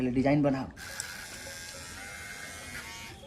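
After a brief voice, an electric hair trimmer buzzes steadily and close by, with a constant motor whine holding for about three seconds as it cuts hair.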